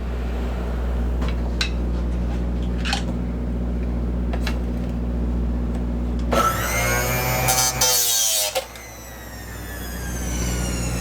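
A Mizuno ST-Z 220 golf driver shaft is cut to length in a workshop: a loud, bright grinding burst runs for about two seconds over a steady low machine hum, then cuts off.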